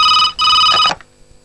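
A telephone rings loudly and close by with an electronic ringtone, two bursts separated by a short gap, the second breaking off abruptly into near silence.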